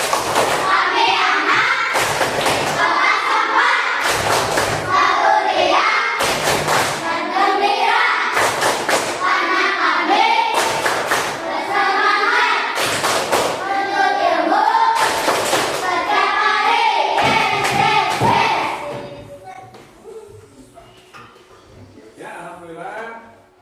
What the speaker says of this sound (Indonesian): Tepuk kelas 4.